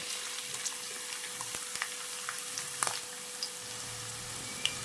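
Chopped onions fry in about two spoons of hot cooking oil for a chicken and tomato stew, a soft continuous sizzle with scattered pops and light crackles.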